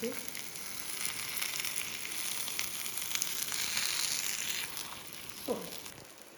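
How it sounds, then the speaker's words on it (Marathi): Onion bhakri flatbread roasting on a griddle over medium gas, giving a steady, soft sizzle and crackle throughout, fairly faint, with a brief scraping or tapping near the end. "असंच मिडियम गॅसवरती छान ह्याला खरपूस भाजू द्यायचं"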